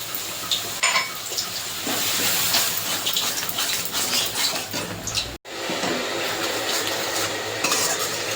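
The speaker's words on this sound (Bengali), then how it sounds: "মশলা থেকে যে তেল ছেড়ে গেছে, এবার এখানে টক দই দিয়ে দেবো।" Sour yogurt, half a cup, going into oil-released spiced masala for a chicken dish and stirred, giving a steady wet sizzle and scraping in the pan with a brief break midway, no voices.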